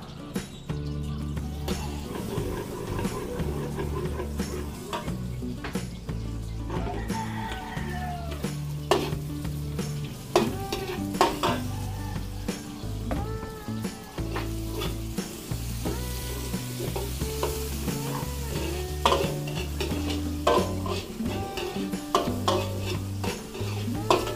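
Garlic fries in cooking oil in a pan as a chop suey base, giving a steady sizzle broken by frequent stirring scrapes and utensil clatter, close and continuous throughout.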